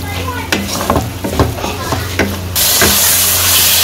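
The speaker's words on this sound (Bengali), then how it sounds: "শাক আমি ভালো করে এই যে মিশিয়া ভাইজা নিব" Taro leaves (kochur shak) stir-fried in a pan, village style, with a spatula scraping and tossing in several sharp strokes over a constant sizzle, ending in a louder, steady hiss.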